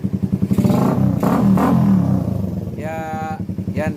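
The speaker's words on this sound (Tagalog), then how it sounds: "ito mga Paps yung sinasabing umahagok yung carb natin" A Suzuki Raider motorcycle on a 51mm open pipe idles with a sputtering, hiccuping carburetor, making loud rhythmic pulses and a brief rev, while someone talks over it.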